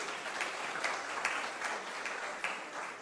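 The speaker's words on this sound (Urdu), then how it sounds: "اگر آپ کو تالیاں بجانی ہو تو بجا لیں" A live audience at a political speech breaks into steady, moderately loud applause with scattered sharper claps, holding evenly throughout with no talking.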